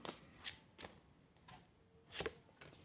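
Tarot cards being shuffled in several quick riffling bursts at irregular intervals, close and fairly quiet, with no one talking.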